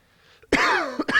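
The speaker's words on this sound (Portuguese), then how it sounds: "Cheguei a tossir de raiva." A single hard cough, loud and close, bursting out after a brief throat noise and trailing into a short second catch of breath.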